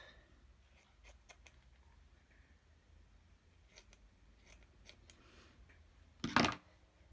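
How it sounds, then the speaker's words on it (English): Scissors cutting a small piece of lace for a paper craft frame, a few faint snips close by, then one louder sharp crunching cut near the end. "I've got a little bit of lace here that might just cut a little bit of that off."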